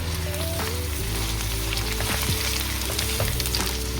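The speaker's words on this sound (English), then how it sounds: "Put in the beef until golden brown." Beef frying in oil with browned onions for beef biryani, a dense continuous sizzle and crackle up close, with a few faint stirring scrapes and a low steady hum underneath.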